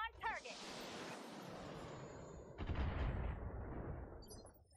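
Weapon fire in the Battletech mech game: a dense sustained burst of rapid shots and explosive rumble, loud and continuous, with a heavier second volley partway through.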